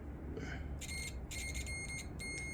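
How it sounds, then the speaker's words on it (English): A continuous high electronic beep from a small continuity tester checking a fuse on a Can-Am Ryker, sounding in sustained bursts with a couple of brief breaks, over faint background hiss. "we hear a solid little beep there coming from our little tester"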